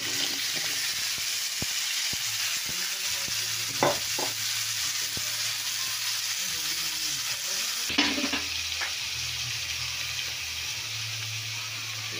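Vegetables stir-fried in a pan, a steady loud sizzle running throughout, broken by occasional sharp clinks and scrapes of a utensil against the pan.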